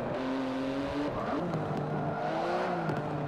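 Racing cars in the video game Forza 7, a Maserati or Jaguar among them, close and steady engine whine, revs rising and falling with each gear change, with a faint tire squeal and no talking.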